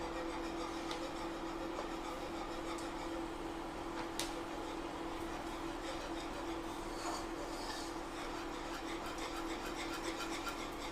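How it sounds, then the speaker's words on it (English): Fudge mixture of unsalted butter, condensed milk and flavoured icing sugar is whisked and scraped around a bowl, a faint, continuous rubbing and rasping under a steady low hum. "You need to make sure that you're scraping down all the sides and whisking all that sugar to combine it."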